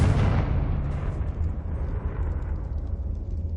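A Confringo blasting curse explodes in Hogwarts Legacy with a loud, broad burst that starts at full strength and rumbles on, slowly decaying but never falling quiet over several seconds.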